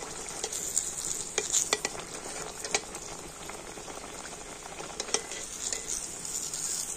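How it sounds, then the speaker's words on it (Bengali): Batter puffs up in hot oil while a ladle works it, a bubbling sizzle close by with occasional metal clinks and scrapes against the pan, no voices. "গরম তেলের মধ্যে তো হাতাটা নিয়ে এইভাবে করলে এটা খুব সুন্দরভাবে ফুলে যাবে।"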